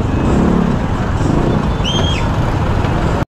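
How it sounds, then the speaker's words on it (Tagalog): Heavy road traffic passing close by as a loud, steady, continuous rumble, with a brief high squeal like brakes partway through. "sobra traffic ngayon"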